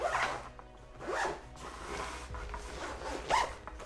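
Several rasping zip strokes, close and fairly loud, as a duffel bag is zipped closed in quick bursts with brief pauses between.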